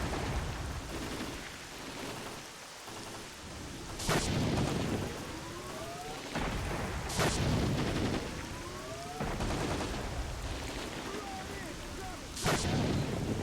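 Gunfire from S.T.A.L.K.E.R. Clear Sky rings out in a few sharp, loud, widely spaced shots over a rumbling game backdrop with faint descending tones between them.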